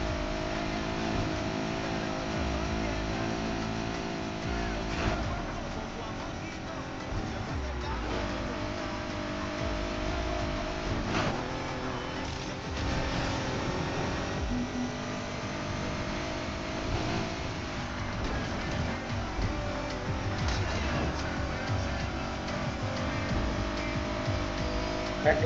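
In the Need for Speed Heat video game, a racing car holds top speed, its engine a sustained, droning roar with slight pitch wavers and passing whooshes throughout.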